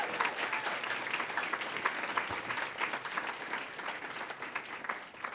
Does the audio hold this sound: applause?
yes